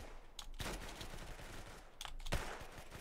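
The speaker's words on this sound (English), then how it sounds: "I hear gunshots behind." Faint bursts of distant gunfire in the Roblox game Arsenal crackle in quick volleys, a few separate flurries spread across a few seconds.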